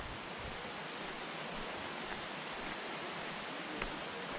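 A waterfall near Yelapa, Mexico, roars as a steady, dense broadband rush, constant and even in level throughout, with no voices over it.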